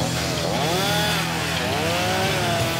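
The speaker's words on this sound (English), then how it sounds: "A chainsaw in this part of the country is a redneck's best friend." A chainsaw cuts a window into a wooden playhouse, its engine snarling loud and close as the pitch dips and rises with the load of the cut.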